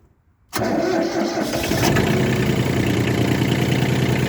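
A Kubota diesel tractor engine cranks and fires after glow-plug preheating, catching abruptly from silence into a loud, steady, rumbling idle close to the microphone.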